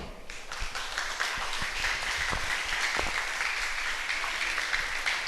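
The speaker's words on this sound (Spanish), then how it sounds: "brinden un aplauso al Señor." Congregation applauding the Lord in church, a full room of steady, dense clapping that swells in the first second and holds evenly, with a few louder individual claps standing out.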